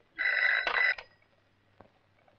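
An old landline telephone rings in a police station in a Hindi film, giving one loud, close, buzzy bell ring of about a second, then near silence with a faint knock.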